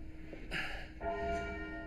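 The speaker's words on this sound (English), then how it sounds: "And it's not just any bell. Black Tom weighs as much as a Mini Cooper." Black Tom, a huge church bell as heavy as a small car, rung by hand with a rope: two deep, resonant strikes about half a second apart, each leaving a long humming ring that carries through the quiet space.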